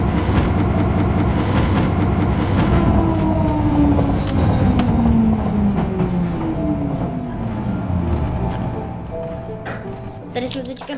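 Minecraft metro train running through a video game world, a steady rumbling ride with rising and falling whine tones and rail rattle throughout, alongside a station announcement voice.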